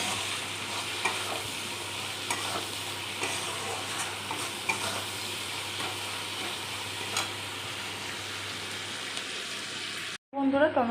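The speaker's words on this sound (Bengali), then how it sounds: "একটু নাড়তে থাকবো।" Tomatoes with salt frying in a pan, a continuous bubbling sizzle with light stirring scrapes throughout, close and steady, ending in a brief clatter after a sudden cut.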